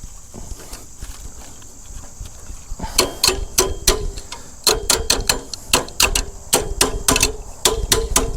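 Repeated sharp metallic hammer strikes ring out in irregular bursts, close and loud, during work moving an electric service cable from one utility pole to another.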